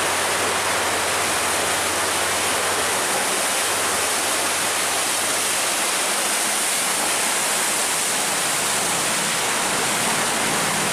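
Water rushes violently over a dam as a steady, loud, broadband roar that holds unchanged throughout with no voices.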